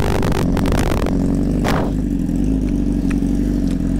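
A very loud new motorcycle revs hard near the listener on a Thai roadside, a sharp burst of throttle falling back to a steady, rumbling idle with a faint clatter.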